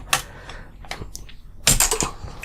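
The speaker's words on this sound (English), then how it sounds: "it's got blue switches" Clicky keystrokes on a semi-mechanical keyboard with blue switches, a few scattered presses followed by a quick cluster of taps, close and crisp with no talking.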